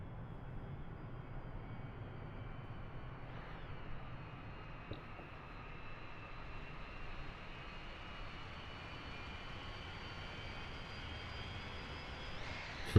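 Airliner engine drone in Microsoft Flight Simulator 2020, a steady broadband roar with a faint rising whine, continuous and even throughout with no talk.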